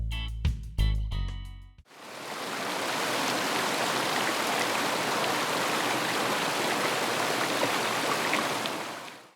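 River water rushes and flows steadily in a broad, continuous wash of close stream noise, starting after a brief burst of handling knocks at the beginning and running on alone to the end.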